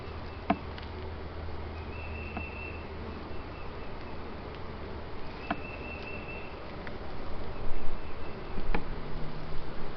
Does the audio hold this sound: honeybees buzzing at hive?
yes